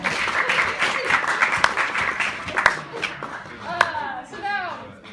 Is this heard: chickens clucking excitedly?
no